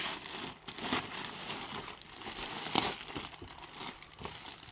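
Plastic packaging wrap being ripped and crinkled off new door bags for a Polaris RZR Pro, a continuous close rustle with sharper tearing bursts, no talking.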